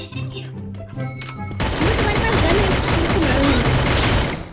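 Rapid automatic gunfire in the video game Free Fire: dense, loud, continuous bursts of shots after a brief quieter stretch with faint speech.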